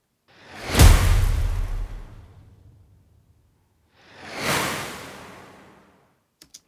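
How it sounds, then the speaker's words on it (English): Two separate whooshes from a free trailer music sample pack: a heavy swoosh with a deep low-end thump, then a lighter airy swell a few seconds later, each fading out cleanly, ending with tiny clicks. "some whooshes on their own as well."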